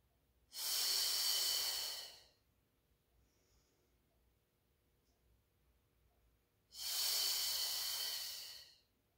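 Two long, loud breaths, each about two seconds, are drawn close to the microphone during a Pilates mat exercise, with a quiet pause of several seconds between them.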